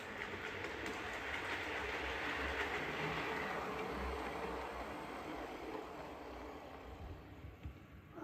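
A model train rolls steadily through a layout station near a viaduct, its running noise a continuous close rumble with faint clickety-clack, easing slightly toward the end as it coasts on.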